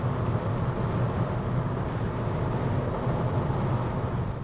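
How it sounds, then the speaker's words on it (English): Steady cabin road noise inside a Skoda Octavia cruising at 120 to 140 km/h, a dense continuous low roar of tyres and wind that stays even throughout, with no voices. "The noise level here in the Skoda Octavia varies strongly according to the road surface"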